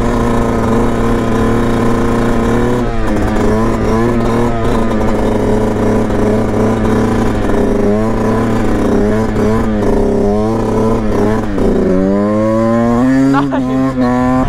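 Motorcycle engine revving hard while the rider holds a wheelie through a curve, a loud, continuous drone with rising and falling pitch and wind rush throughout.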